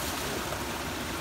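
A river rushes along the Appalachian Trail in cold weather, a steady broadband wash of flowing water, close and even, with no voices.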